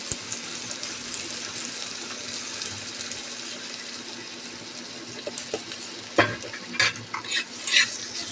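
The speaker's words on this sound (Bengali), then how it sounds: "এটাকে ভেজে নেওয়া হলো।" Grated ginger and chopped tomato with sugar and salt fry in a pan with a steady close sizzle, and sharper scraping stirs come in toward the end.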